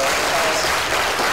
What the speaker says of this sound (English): I would like to hear applause at this moment.